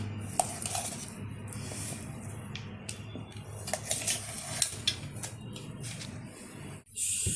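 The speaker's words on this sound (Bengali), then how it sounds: "এখন যে পেস্টটা আমি করেছিলাম সেটা ঢেলে দিচ্ছি।" Semolina and date paste poured onto a ghee-greased plate for barfi, heard as soft scraping and clinking of a utensil against the dish, quiet and close, with small knocks scattered throughout.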